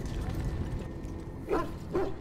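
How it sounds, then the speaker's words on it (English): A dog in the video game Dragon Age: Origins gives two short, happy barks close together under a steady background of game ambience. "Happy bark."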